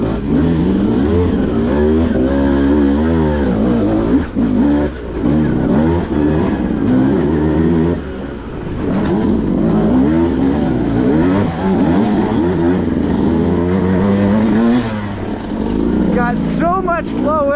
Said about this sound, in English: the motor on this motorcycle is absolutely brilliant